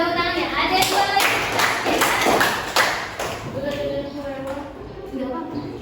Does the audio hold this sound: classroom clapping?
yes